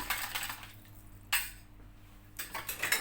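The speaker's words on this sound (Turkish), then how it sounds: "Çırpıcıyla çırptığımız zaman salça çabuk açılıyor" A metal whisk stirs tomato paste in a bowl for a Turkish oven meatball-and-potato dish, with a few scattered clinking strokes against the bowl, fairly soft and separated by short quiet gaps.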